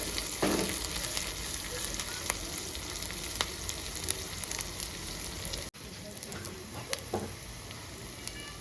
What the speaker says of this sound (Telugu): ఉల్లిగడ్డ 2 పచ్చిమిరపకాయలండి సన్నగా కట్ చేసి పెట్టుకున్న వేసుకొని బాగా ఫ్రై చేసుకోవాలి